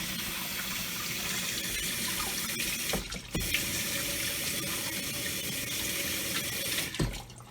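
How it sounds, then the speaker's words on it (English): Hands washed under a running kitchen tap, a steady close splashing water stream with brief dips and small clunks as hands move under the flow. "I'm going to wash my hands."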